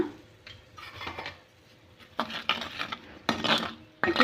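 A spoon scrapes and clinks against a pan while stirring a mango pickle mixture with turmeric, giving irregular metallic scrapes and taps in short bursts, close and fairly quiet, with no talking.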